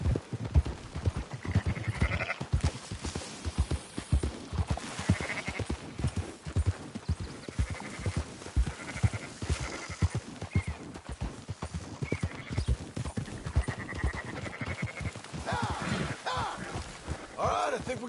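Sheep bleating in Red Dead Redemption 2 as they are herded on horseback, with steady hoof clip-clop throughout and occasional horse whinnies, while voices talk over the scene.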